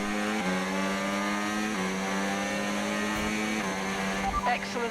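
An F1 race car in the F1 25 video game pulls away at the start in Austria, its engine whining higher through each gear before dropping with every shift, loud and close, with a brief voice near the end.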